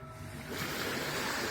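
Ocean waves wash ashore at a Cozumel resort at sunrise, a steady broadband surf that swells louder after the first half second and holds as a continuous roar, with no voices.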